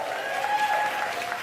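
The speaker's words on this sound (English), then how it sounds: "My round of applause." Steady applause from a comedy club audience fills the whole moment, a dense, even wash of clapping with no voices standing out.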